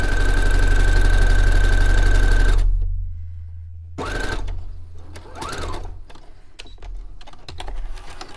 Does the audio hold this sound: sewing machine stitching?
yes